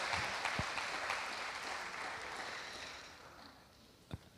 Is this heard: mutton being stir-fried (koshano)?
no